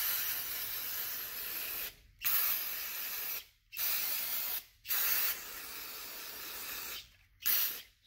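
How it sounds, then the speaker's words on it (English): Carb cleaner sprayed onto a Studebaker Avanti engine in sustained hissing bursts, five or so long aerosol blasts separated by brief pauses, steady and fairly close. "Getting her sprayed down with some carb cleaner."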